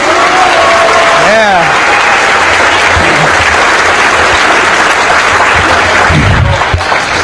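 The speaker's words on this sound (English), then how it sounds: "Okay, let's have a round of applause." Loud, continuous audience applause at a DEF CON hacking conference awards ceremony, a dense wash of clapping with a brief voice heard over it early on and near the end.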